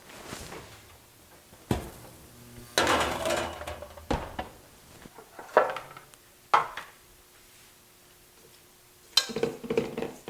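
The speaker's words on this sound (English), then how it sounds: "So now into the oven they go." A tray of shortbread cookies slid into a home oven, a series of close metallic clunks, knocks and a door closing, scattered sharp hits over quiet, with no talking.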